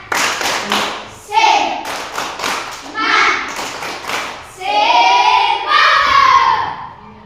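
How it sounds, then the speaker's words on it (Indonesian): A group, likely children, performs a rhythmic spirit clap in bursts of quick patterned claps and thumps, punctuated by loud chanted voices and shouts between and over the beats. "Tepuk semangat dulu. Tepuk semangat."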